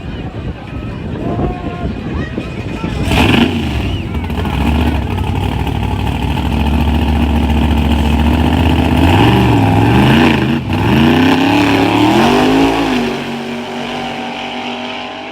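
A small-tire car with a carburetor revs loudly and close, its engine climbing and falling in repeated sweeping pitch runs, with people talking over the roar.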